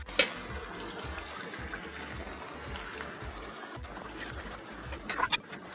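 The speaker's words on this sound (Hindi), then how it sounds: "तो डालते हैं इसमें पानी।" Water pours and splashes into a pot of sautéed potato curry in a steady stream, moderately loud and close, with a brief clatter near the end.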